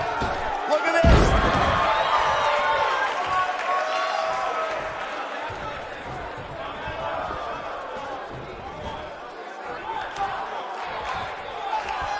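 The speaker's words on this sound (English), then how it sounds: "by the sound of this crowd, I think they're getting what they wanted" A wrestling arena crowd in the WWE 2K19 video game roars steadily and loudly throughout, with a sharp slam-like hit near the start.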